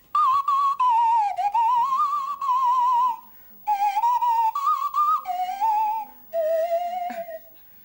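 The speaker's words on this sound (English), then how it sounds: "It's called a Swanee whistle, technically." A Swanee whistle, a slide whistle shaped like a bicycle pump, played in several long, wavering tones that slide up and down in pitch, loud and close, with brief breaks between phrases.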